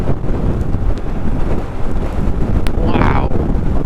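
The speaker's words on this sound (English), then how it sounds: "Headwind, strong headwind." Strong headwind battering a rider on a 2023 Honda motorcycle, a loud continuous low roar of wind buffeting the microphone throughout, with a voice speaking under the rumble.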